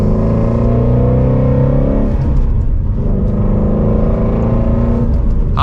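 A Ford Mustang Shelby GT350R V8 accelerates hard from second gear with a loud, close, continuous engine roar that climbs in pitch, then a brief dip and another rising pull.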